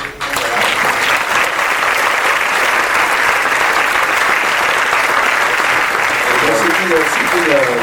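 A large audience of European industry partners applauds the Rosetta mission team: loud, dense clapping that holds steady for several seconds, with faint voices underneath near the end.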